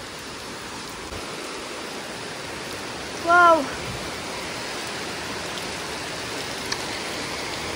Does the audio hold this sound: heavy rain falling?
yes